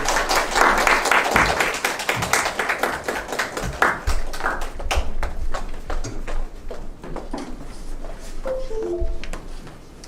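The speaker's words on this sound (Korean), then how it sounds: "박수로 맞이해 주세요." An audience at a pet startup demo day applauds to welcome the next presenter, with dense clapping that is loudest at first and then thins into scattered claps.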